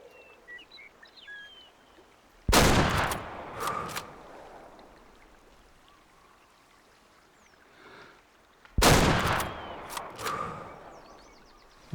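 Two loud, sharp rifle shots ring out in the hunting video game Way of the Hunter, about six seconds apart, each with a short echoing tail over quiet outdoor ambience with faint birds and water.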